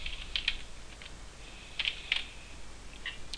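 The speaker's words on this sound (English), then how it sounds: "I'm gonna type it in right now" Typing on a computer keyboard, with a few short bursts of soft key clicks separated by pauses, fairly quiet against a faint background hiss.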